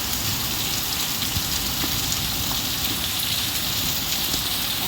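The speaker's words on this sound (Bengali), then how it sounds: "বৃষ্টি, দেখো কি বৃষ্টি জোরে জোরে হচ্ছে।" Heavy rain pouring steadily at night during a thunderstorm, a dense continuous wash of drops drumming on surfaces close by, with no voices over it.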